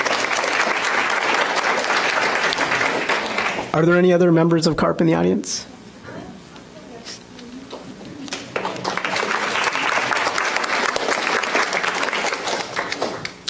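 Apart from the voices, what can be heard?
audience applause at a committee meeting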